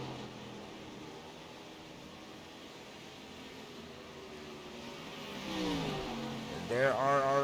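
Race cars in the Heat Wave 100 come by on a track, engine drone building in the distance and then rising in pitch as they pass close near the end, with a commentator talking over it.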